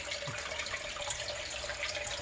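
Floodwater running and trickling into a sump pump pit during a creek flood, a steady, faint watery splashing and dripping with no talk.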